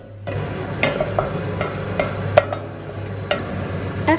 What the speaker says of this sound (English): So first I will put one small tablespoon of ghee into a pan,